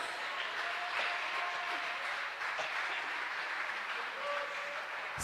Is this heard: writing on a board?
no